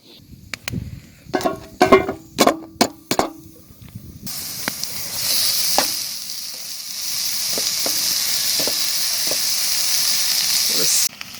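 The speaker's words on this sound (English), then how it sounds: "I'm going to start off our stew by browning the beef" Beef browning in a pot over a campfire on a backcountry canoe trip, first some scattered knocks and clatter, then a steady loud hiss of sizzling fat that carries on close by with occasional clinks, with no talk.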